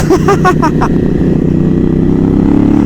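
A Harley-Davidson motorcycle engine rumbles loudly and close, a deep steady idle with a brief revving pulse at the start.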